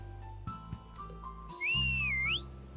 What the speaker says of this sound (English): you whistle for her attention